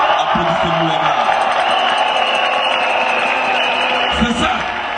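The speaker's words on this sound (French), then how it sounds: "Applaudissez-nous, les gars." A large crowd at a political rally in Côte d'Ivoire roars with sustained cheering and applause, loud, dense and continuous throughout.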